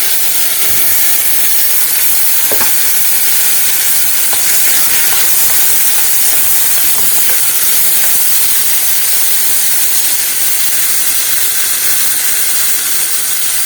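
Tomato paste and grated fresh tomato sizzling in a cooking pot over onion and garlic fried in oil, giving a loud, steady, dense hiss that continues without a break.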